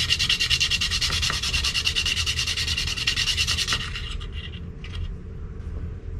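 Close, steady sandpaper rubbing on the underside of a piano key top, a rapid back-and-forth scrape that fades into a few lighter strokes near the end.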